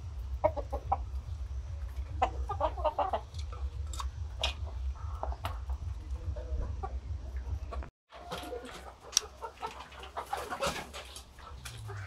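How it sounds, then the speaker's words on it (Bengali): Backyard chickens peck at chopped green grass up close, with rapid pecking taps and soft clucks over a low rumble, broken by a brief silent gap midway. "মুরগিগুলো সবুজ খাবে বলে কিছু সবুজ ঘাস কুচিয়ে দিয়েছি।"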